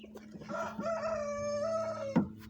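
A red porcelain Pekin bantam cockerel crows once, a clear drawn-out call close by, with soft clucking from Pekin hens before it and a short squawk at the end.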